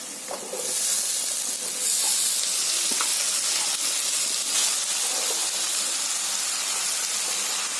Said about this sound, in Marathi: आता त्याच्यामध्ये मी शिमला मिरची टाकते.